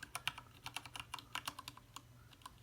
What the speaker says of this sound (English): you can kind of feel like a little push pop right here when you do each click